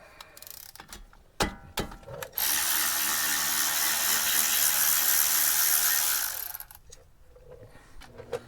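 A ratchet turns out a brake caliper bolt on a 2009–2015 Toyota Venza 3.5L. A few clicks and knocks come first, then about four seconds of steady, close ratcheting buzz before it stops and handling noises follow.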